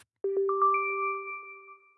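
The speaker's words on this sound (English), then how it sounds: "a little chime will alert you when your render" SynthEyes software plays a short chime as a render finishes: a few quick ascending bell-like tones that ring out and fade cleanly against silence.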